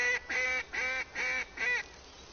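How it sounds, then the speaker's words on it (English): Ducks quack in a hunting video game, five evenly spaced nasal calls in a row that are fairly loud and close, followed by a brief quiet gap. "Come on, duck. Quack, quack, quack."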